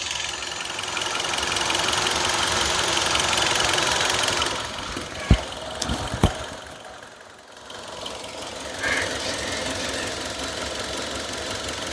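A 2015 Hyundai Verna 1.6 petrol engine idles under an open bonnet with a steady mid-pitched hum. A few sharp clicks come midway, followed by a brief dip, then the hum settles again.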